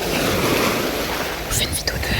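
Ocean waves on a beach, a continuous loud roar of surf with gusty wind noise buffeting the microphone, and a few faint whispered sounds near the end.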